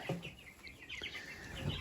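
Chickens clucking softly nearby, a few short clucks and chirps over a steady background hum, no talking.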